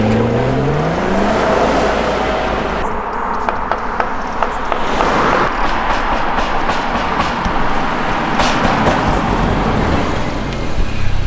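A BMW 540i with its exhaust flap open, heard from the driver's seat while driving: a loud, steady engine and exhaust roar with a rising rev at the start and scattered sharp crackling pops throughout.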